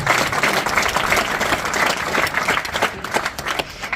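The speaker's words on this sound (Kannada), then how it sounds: "ಒಂದು ಚಪ್ಪಾಳೆಯ ಮೂಲಕ ಅವರಿಗೆ ಅಭಿನಂದನೆಗಳನ್ನು ತಿಳಿಸಿ" An audience applauds for an MLA at a government school event, a dense, loud burst of clapping from many hands that holds steady for several seconds and then thins slightly toward the end.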